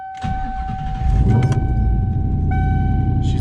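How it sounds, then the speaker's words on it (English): A Coyote V8 in a Foxbody Ford Mustang cold-starts in a tight garage: a brief starter crank, then the engine catches and settles into a loud, steady, rumbling high idle. "Little Coyote cold start."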